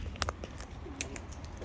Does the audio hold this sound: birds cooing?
yes